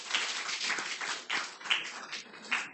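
A church congregation at a Friday prayer meeting claps to welcome an arriving guest, with a steady patter of many hands heard from a moderate distance and several louder bursts standing out.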